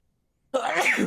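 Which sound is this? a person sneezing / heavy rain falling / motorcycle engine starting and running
a person sneezing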